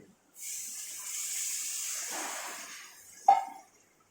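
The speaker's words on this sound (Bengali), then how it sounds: "এর মধ্যে আমি পরিমাণ মতো জল দিয়ে দেব। এই যে জলটা আমি দিয়ে দিচ্ছি।" Water pours into a simmering paneer and potato curry in a pan, a soft steady splashing gush for about three seconds, ending with a brief sharp clink.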